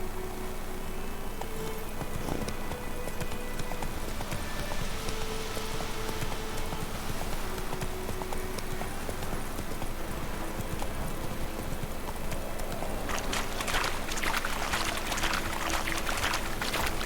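Roach the horse gallops in The Witcher 3, a steady rapid clip-clop of hooves running throughout, close and prominent over a continuous ambient bed, with a brief neigh and no talking.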